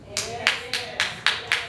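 A church congregation claps in a steady, even rhythm of about six sharp claps, close and distinct, with a low murmur beneath them.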